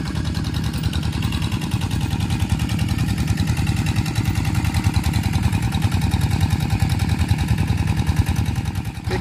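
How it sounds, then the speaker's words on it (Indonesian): Water pump engines irrigating farmland in a highland Javanese village, a continuous rapid mechanical chugging and clatter at steady, fairly loud level with no pauses. "masih ada juga ya mesin-mesin pompa air sih, mesin-mesin pompa air yang sedang dimanfaatkan untuk mengairi"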